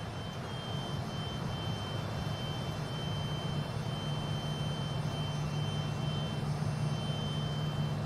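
Steady, loud jet engine roar of an airliner in Microsoft Flight Simulator 2020, flying over the Philippines, a continuous broadband rumble with a low droning hum and faint high whine throughout, with no talking.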